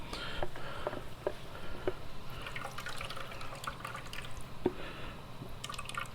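Whey from homemade raw-milk butter dripping and trickling into a container, faint scattered drips over a low steady background hum, close by.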